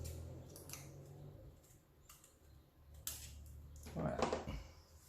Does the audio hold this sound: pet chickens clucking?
no